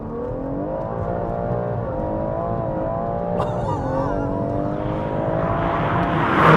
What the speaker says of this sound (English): The way that car accelerates, it loses so much acceleration because of the rear wheel drive